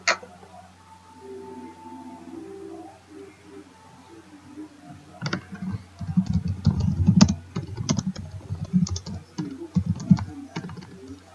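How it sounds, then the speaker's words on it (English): Fast, irregular clatter of keys on a computer keyboard, close and fairly loud, starts about halfway through after a quiet stretch with faint background sound and continues in dense bursts. "You can probably hear me typing"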